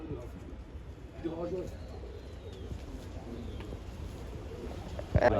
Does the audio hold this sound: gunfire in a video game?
no